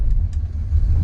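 A 1956 Chevy with a 275 horsepower engine pulls hard under acceleration, a loud, steady low rumble of engine and road noise filling the moment with no voices.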